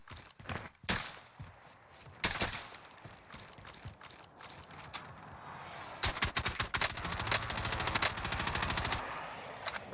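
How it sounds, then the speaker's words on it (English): Gunfire in the Warzone video game: rapid automatic bursts and scattered single shots, with a long sustained volley near the end, loud and close. "he wasn't too busy just randomly shooting his gun for no reason"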